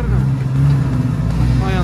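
A Jeep Cherokee engine accelerating while in drive, a loud steady low rumble held close up throughout, with voices audible over it.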